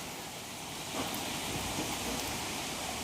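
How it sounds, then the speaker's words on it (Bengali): A storm with rain makes a steady, broad rushing roar of rainfall and wind. It is fairly faint and even throughout, with no voices. "ঝড় উঠেছে মামা, ঝড় উঠেছে দেখো।"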